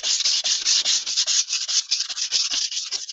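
Knife blade rubbed back and forth on a soft, muddy whetstone, a steady hissing grind in repeated close strokes with brief pauses between passes.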